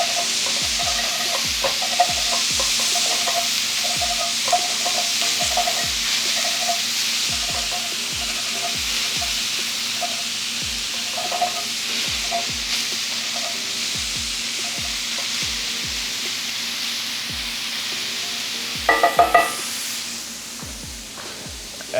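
Crawfish fry and get stirred in a pan with added oil, a steady sizzle running throughout while a utensil scrapes and clacks against the pan in irregular strokes, with a brief louder burst of sizzling near the end.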